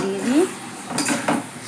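A utensil stirs jackfruit curry in a metal pan with a few clanks and scrapes, close and fairly loud, while a voice speaks briefly at the start.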